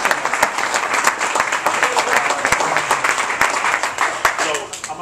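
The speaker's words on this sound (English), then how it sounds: "Let's get a round of applause for Ozzy." Dense applause from a party crowd at a charity event with White Sox players, continuous clapping with sharp individual claps and a murmur of voices underneath.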